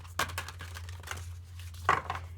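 Large tarot cards are shuffled by hand, giving two brief papery riffling bursts with softer rustling between them over a steady low hum. No one speaks.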